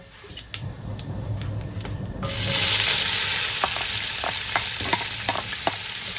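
Three large sliced onions for biryani sizzle loudly after hitting a hot pan, preceded by a few seconds of quieter kitchen noise, with steady frying hiss and occasional stirring ticks throughout.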